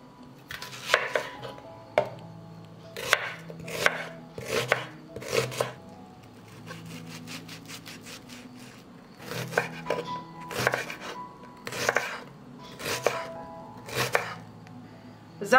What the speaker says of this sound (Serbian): Iseći ću kilogram luka.